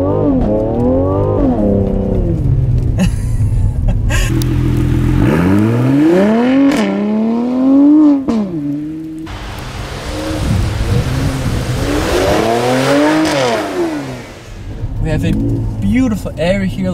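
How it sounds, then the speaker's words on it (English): A Mercedes-AMG C43 convertible's six-cylinder engine revs repeatedly in first gear on snow with traction control off, loud rising and falling sweeps, with a person talking over part of it. "Just listen to this six-cylinder sound."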